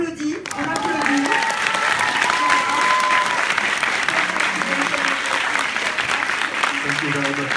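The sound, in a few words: audience applauding Reda Kateb at Paris Q&A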